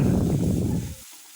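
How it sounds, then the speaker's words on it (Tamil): Tomato paste being stirred into sautéed mushroom masala in a pan for road-side style kaalan, a loud, dense sizzle close by that cuts off after about a second. "இந்த ஸ்டேஜில் நம்ம தக்காளி பேஸ்ட் அடித்து வச்சுருக்கோம்ல, அதை இதில் சேர்த்துக்கலாம். சேர்த்துட்டு நல்லா கிளறிக்கலாம்."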